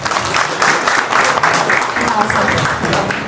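An audience claps at a corporate laminates event in a hotel in Varanasi, dense steady applause from a crowd filling the whole moment, loud and close.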